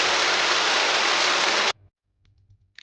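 Heavy downpour roars as a dense, steady wash of rain, loud and close, then cuts off abruptly into near silence.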